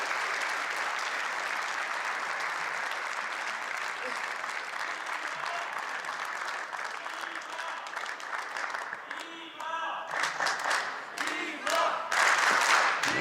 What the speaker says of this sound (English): Crowd getting behind Dima, the European fans here in Poland.